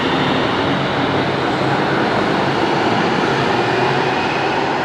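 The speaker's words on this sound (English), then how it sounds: "Here's the light rail." Seattle Sound Transit light rail train rolling along, a steady loud wideband rumble and rush that stays even throughout with no talking.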